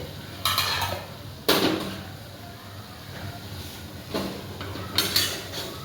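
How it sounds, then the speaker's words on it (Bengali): A cooking pot's lid is lifted and set down during a kochu chingri (taro and prawn) cook, giving a few sharp metallic clanks and scrapes spaced several seconds apart over a quiet kitchen background. "এবার আমি ঢাকনাটা উঠিয়ে দেখব 10 মিনিট পরে কতটা হয়েছে"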